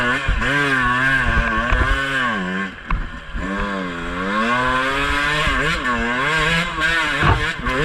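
A 2-stroke dirt bike engine revs hard while hill climbing on woodland singletrack, loud and close, its pitch rising and falling with throttle blips and shifts, continuous throughout.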